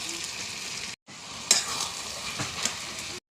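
Prawns fry with bottle gourd, turmeric, salt and ginger-cumin paste in a wok, giving a dense, continuous loud sizzle with a couple of abrupt breaks and brief stirring scrapes.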